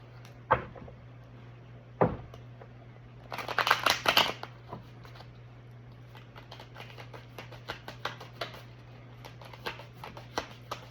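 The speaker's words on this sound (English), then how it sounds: "I'm just going to draw some mainstream tarot for a little bit" Tarot cards are shuffled close by in a brisk burst of riffling, followed by scattered light clicks and taps of cards being handled, over a steady low hum.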